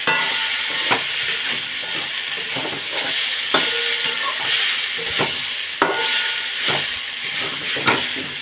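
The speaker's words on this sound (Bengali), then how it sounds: "এখন পরিমাণ মতো জল দিয়ে দেবো।" Water poured into frying watermelon rind curry sets off a loud, continuous hissing sizzle with steam, broken by occasional stirring scrapes and knocks in the pan, with no voices.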